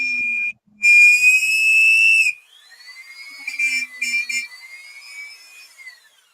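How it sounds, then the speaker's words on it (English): A loud, high-pitched squeal from a customizing job in a workshop rises and holds steady for about two seconds, then drops to fainter, wavering squeals and a few short bursts. No one speaks. "That was a high-pitched squeal."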